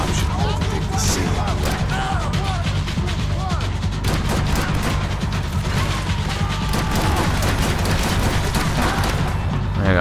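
Constant gunfire fills a firefight in the video game Max Payne 3, with repeated sharp shots and crashes over a loud, steady battle din.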